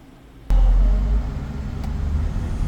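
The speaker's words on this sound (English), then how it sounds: "I'll go drive the car." An Infiniti G37 starts off after new gallery gaskets are fitted, its engine noise jumping abruptly from near quiet to a loud, close rumble that then settles into a steady driving drone.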